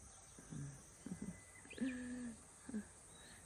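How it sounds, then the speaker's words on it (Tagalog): Birds calling outdoors at sunrise, a few short cooing and chirping calls in separate bursts, including one longer drawn-out note, moderately near over a quiet background. "Narinig niya yung ibon."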